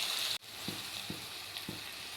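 Onions and tomatoes sautéing in a pan for chicken curry with turmeric powder added: a steady close frying sizzle, briefly interrupted, then continuing with a few soft stirring knocks.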